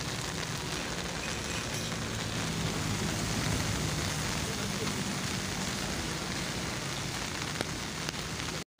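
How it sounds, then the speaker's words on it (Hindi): Heavy, steady rain pours down in Taxila, a dense, even hiss of drops on surfaces that holds constant and loud throughout before cutting off abruptly at the end. "सुबह 3 बजे से बारिश का आगाज़ हुआ और अभी तक बारिश जारी है"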